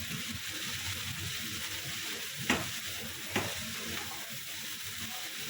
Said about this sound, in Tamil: நல்லா டீப்பாக நான் இதை ஃப்ரை பண்ணணும்